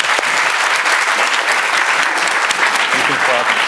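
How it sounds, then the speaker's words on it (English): A lecture-hall audience bursts into sustained applause, loud dense clapping from many people filling the room for nearly four seconds, with a few voices underneath. "You can clap."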